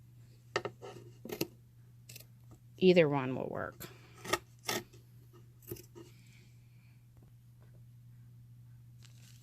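A craft knife slices through paper in a few short, sharp scraping strokes, and a voice speaks briefly between the cuts.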